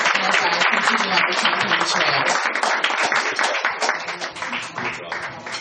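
A crowd at a political campaign event for Scherie Murray breaks into dense, sustained applause, loud and close at first and thinning slightly toward the end, with no voice rising above it.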